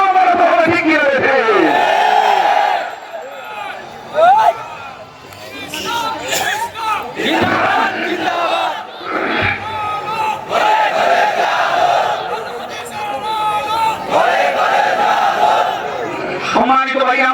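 A large crowd at an annual mosque sermon gathering chants takbir, loud massed voices rising in repeated bursts over a preacher's amplified voice in a reverberant open setting.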